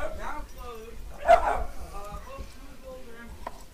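Dog barking at home, a short burst of a few barks near the middle, mixed in with a person talking close by in a quiet room.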